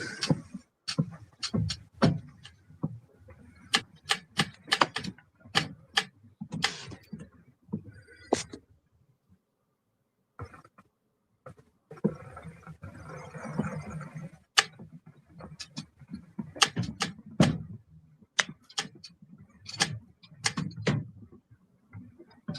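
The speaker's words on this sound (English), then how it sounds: "Sounds like you've got a typewriter in the background." Keys of an old typewriter clack in irregular bursts of sharp taps in the background of an online panel discussion, pausing for a few seconds midway before resuming, fairly quiet.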